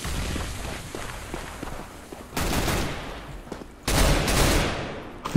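Gunfire in Counter-Strike: Global Offensive: steady rattling shots run through the clip, broken by two loud bursts of rapid automatic fire at close range, with no talk.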